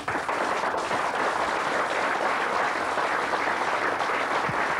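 Studio audience applause for a Birmingham comedian on a 1988 live weekend show, steady sustained clapping throughout with no voices over it.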